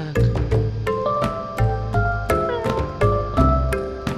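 Short cartoonish cat meows from a hidden-cat game set in Bali repeat over a bouncy, plucked background tune, each meow clear and near.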